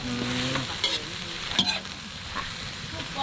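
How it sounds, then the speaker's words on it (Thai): Wild sweet leaf (pak wan) stir-fried with two eggs, seasoned with oyster sauce and a little sugar, sizzles steadily in a pan while a utensil scrapes and stirs in a few distinct strokes, close and moderately loud. "เมนูผักหวานผัดไข่"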